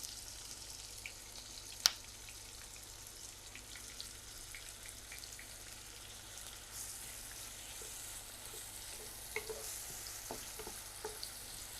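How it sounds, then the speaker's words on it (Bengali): Onion and garlic paste frying in a pan, a steady soft sizzle that carries on throughout, with an occasional sharp clink of a utensil against the pan. "পেঁয়াজ এবং রসুনের পেস্টটা আমি একদম ভাজা ভাজা করে নিয়েছি"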